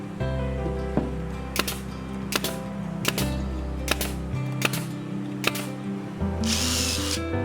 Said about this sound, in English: Don't forget to pre-drill the holes to prevent splitting.